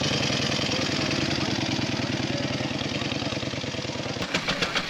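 A 1911-era Clement veteran motorcycle, essentially a bicycle with an engine, idles at a veteran vehicle rally with a fast, even single-cylinder putter, close and steady. Several louder chuffs near the end suggest the throttle opening.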